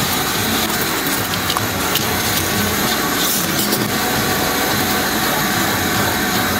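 An air compressor blasts air into carpet to blow out debris during auto detailing, a loud, steady broadband hiss and roar that runs unbroken throughout.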